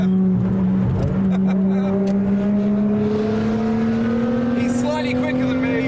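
A white Toyota Chaser's engine revs loudly and rises steadily in pitch as the car passes at Le Mans, a continuous strained drone that stays prominent, with people talking over it.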